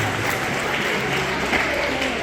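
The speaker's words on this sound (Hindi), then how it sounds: "जोर से तालियां बजाते हैं।" A school audience at a quiz competition gives a steady, dense round of applause, loud and even throughout, with a few voices mixed in.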